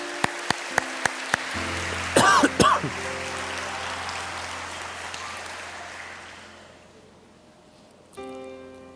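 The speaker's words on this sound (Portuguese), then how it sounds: "Aplauda esse nome." Applause rises from a church congregation during a service, a dense patter of clapping that swells briefly, thins out toward the end, then returns faintly, with a few sharp knocks near the start.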